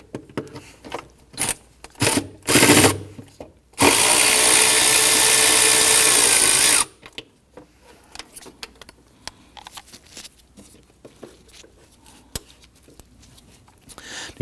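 A power tool runs on a 10mm bolt at the intake manifold bracket of a 2011-2015 Kia Sorento, with a short burst and then a steady three-second whir, surrounded by quiet clicks and rattles of metal parts and tools.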